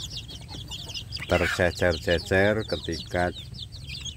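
Free-range village chicks cluck and peep softly while pecking at wet feed, with someone talking close by over the chirping.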